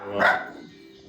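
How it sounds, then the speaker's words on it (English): Dog barking indoors: a single sharp bark near the start, close and fairly loud, followed by a brief fading tail. "the dogs have a lot to say too"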